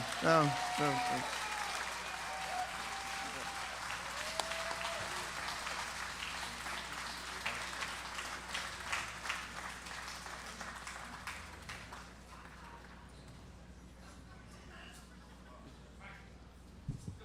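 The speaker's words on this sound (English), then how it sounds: "So a round of applause for Thomas Lauderdale and his generosity." An outdoor crowd at a rainy Portland celebration applauds, a broad spread of clapping that starts strong over a voice and slowly thins and fades into scattered claps.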